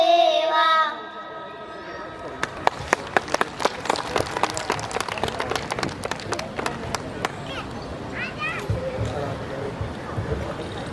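Scattered hand claps from an audience at a Vanvasi Raksha Parivar Foundation community gathering, rising into a brief ragged round of applause and then thinning out, with a sustained tone at the start and faint background voices.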